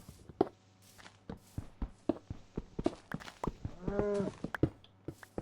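A cow in a video game gives a short low moo amid a series of crisp, irregular clicks and thuds resembling footsteps, moderately close with no talking.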